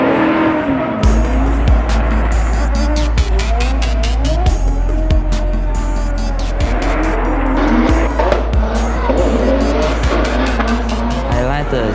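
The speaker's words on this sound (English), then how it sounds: "The sound of the drift cars" Drift race cars running 36 pounds of boost roar continuously at close range, with tire squeal and skidding layered over the loud engine noise throughout.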